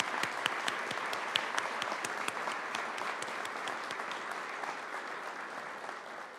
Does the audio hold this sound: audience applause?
yes